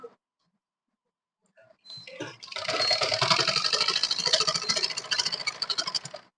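A sewing machine stitching kurti fabric, a quick rhythmic mechanical whir that starts after a couple of seconds of near silence and a few clicks, then runs steadily and close by until it stops near the end.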